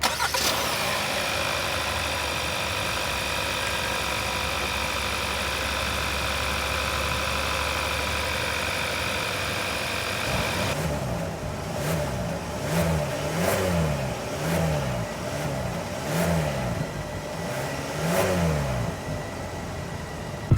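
A 2024 Kia Sorento engine turns over and settles into a steady idle, then the exhaust rises and falls through a series of about seven rhythmic revs, loud and close.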